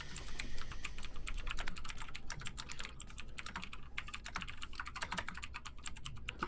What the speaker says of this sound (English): You guys can't hear my typing too much, can you? We can.